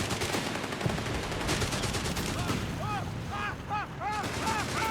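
Company of Heroes 3 match where a howitzer fires amid steady machine-gun and rifle fire. Dull booms land under a constant crackle of battle, while a commentator talks throughout.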